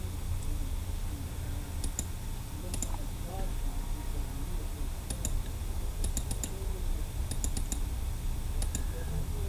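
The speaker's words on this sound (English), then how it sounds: "You click on it first, then double click right on the line where you want to divide that line" Computer mouse clicks while a paper rose popup place card is designed on screen: sharp, scattered single and double clicks, close up, over a steady background hum and a talking voice.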